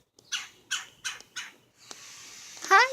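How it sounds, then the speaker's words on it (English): A bird squawks at a feeder outdoors in a small garden, giving four loud, evenly spaced harsh calls, followed by a brief rustle and a final sharper squawk. "Bird watching. There he goes."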